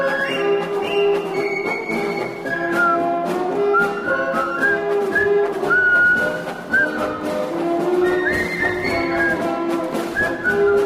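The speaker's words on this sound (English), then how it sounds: "I thought the whistling was a little light, so I added my whistling in." A person whistles a lively melody over a music track on a morning radio-style show, clear bright notes moving up and down in a quick rhythmic tune that continues throughout.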